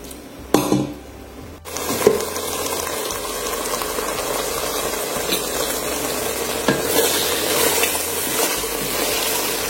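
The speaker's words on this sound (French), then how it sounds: "Là, je vais donc laisser bien mijoter." A pot of vegetables for homemade bouillon cubes simmering steadily, with a continuous bubbling, sizzling hiss, a few knocks of utensils near the start, and no talking.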